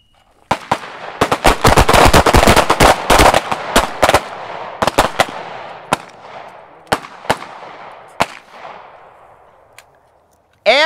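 A rapid volley of loud, sharp gunshots from a handgun fired while moving to the left, dense at first, then thinning to single shots spaced about a second apart, each with a short ringing tail.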